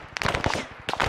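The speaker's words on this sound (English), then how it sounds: "Someone shooting at me." Gunfire in the military video game Arma 3 comes as a rapid burst of sharp cracks, then a short pause and another quick volley, loud and close with no talk.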